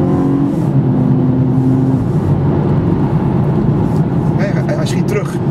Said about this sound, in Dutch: En dan geef je even goed gas.